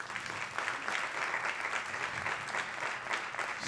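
An audience applauds steadily, a dense wash of clapping from a crowd at a talk and music event, even in level throughout with no voices over it.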